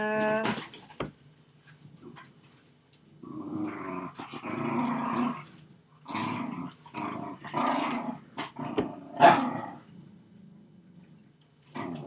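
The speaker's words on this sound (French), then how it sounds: "je suis en train de surpasser le cri de mes chiens" Several dogs growl and bark close by in loud, irregular bursts with brief pauses, snarling throughout, no talk over them.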